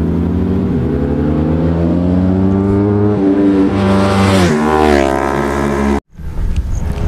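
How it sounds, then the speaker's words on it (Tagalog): Racing motorcycles, including a Ducati 848, scream past on the Batangas Racing Circuit, engines loud and close with rising and falling revs, then a brief cutoff before the roar resumes. "Nalakas ng motor nilang dala."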